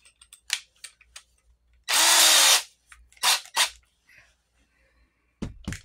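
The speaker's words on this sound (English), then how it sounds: "put them in a bigger cordless drill" A cordless drill whirs in one brief burst of under a second, loud and close, surrounded by clicks and handling noises.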